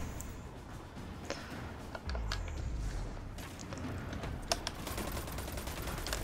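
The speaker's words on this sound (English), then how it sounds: "Oh, I'm shooting up in the air." Gunfire in Destiny 2, a weapon fired into the air: a scattered string of sharp shots and clicks over a steady background hiss, fairly soft and irregular in rhythm.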